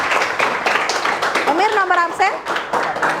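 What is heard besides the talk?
classroom clapping for a student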